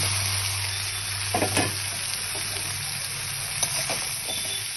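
Panch phoron spices, chopped onion and a small tomato are stir-fried in a pan, giving a steady sizzle over a low hum, with a few sharp scraping stirs and no speech.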